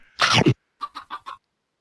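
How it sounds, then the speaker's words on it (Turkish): A chicken being fed seeds gives one longer, loud squawk followed by four short, evenly spaced clucks, close up in an otherwise quiet setting. "Aha tavuk da geliyor arkadaşlar."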